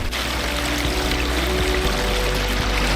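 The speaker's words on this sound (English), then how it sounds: "So the pumice waterfall here at Peral Gardens is one of 2 pumice waterfalls that we have on this tour" A pumice rock waterfall at Peral Gardens, water pouring and splashing in a continuous, fairly loud steady rush with a low undertone.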